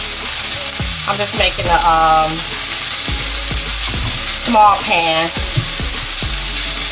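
Peppers and onions sizzle and fry steadily in a pot for a steak hoagie mac and cheese, with stirring scrapes and clatter up close while a person talks over it.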